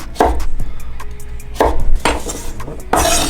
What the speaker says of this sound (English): we're gonna do a simple split right down the middle lengthwise, and a nice like wide cut, just like that